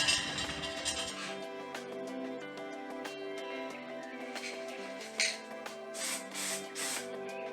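Black spray paint hissing onto a Honda XL600 airbox from a 1987 bike, a continuous close spray with a few short pauses and clicks, over faint background music.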